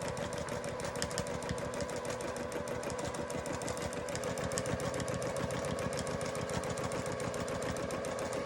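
A quilting sewing machine runs steadily at close range, its fast needle stitching forming a dense, continuous mechanical chatter with no pauses or voices.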